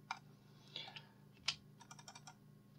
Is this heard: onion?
no